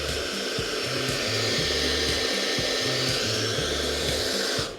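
A hair dryer blows a steady, loud stream of air to keep a ping pong ball floating midair, a continuous broadband whoosh with a low tonal hum that shifts in short steps throughout.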